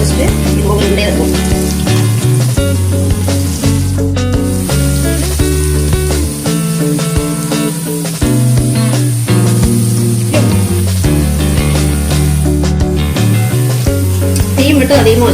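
Egg kola urundai balls frying in groundnut oil over a low flame, with a loud, continuous crackling sizzle. Background music plays underneath.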